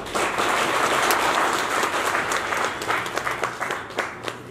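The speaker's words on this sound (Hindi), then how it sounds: "श्री पूर्णचंद चार्य जी के स्वागत में जोरदार तालियां हो जाए।" Loud, sustained applause fills a pavilion of workers at a retirement ceremony, a dense crowd clapping steadily before thinning to scattered claps.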